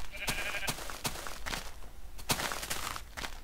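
Minecraft sheep bleat in a short, wavering call amid a string of sharp clicks and taps from the game, the sounds moderately loud and irregularly spaced.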